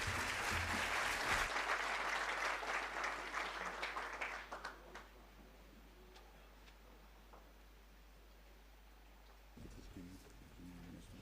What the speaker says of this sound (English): Let's give Mr. Alan Meyer a big round of applause.